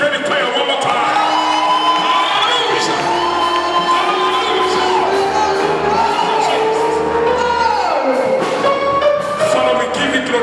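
Congregation in a church service cheering, whooping and shouting for the choir, a dense, sustained crowd roar with children's shrieks and scattered voices throughout, loud and close.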